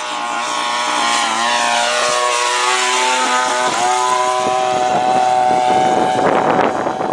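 An airplane flies close by with a loud, continuous engine drone whose pitch rises and falls as it passes, alone without voices.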